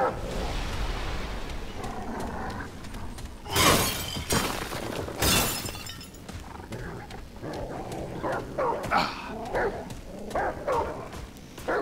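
A dog in the video game Remnant: From the Ashes barks and whimpers amid a busy game soundscape, with two loud sharp bursts partway through and scattered yelps and cries afterward.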